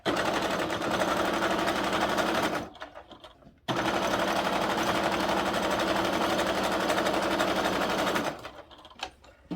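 A sewing machine runs a small stitch across the bottom of a fabric billfold wallet, humming loudly and steadily in two long runs with a brief stop between them, then slowing at the end.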